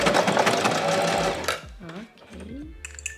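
A sewing machine stitches fabric for a scrunchie at a 1 cm seam, running in a steady, close whir for about a second and a half before stopping, after which a voice speaks.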